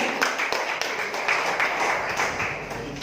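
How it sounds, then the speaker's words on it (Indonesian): A crowd clapping steadily in a large room during a question-and-answer session, a dense patter of applause continuing throughout at moderate loudness. "Terima kasih pertanyaannya, tepuk tangan."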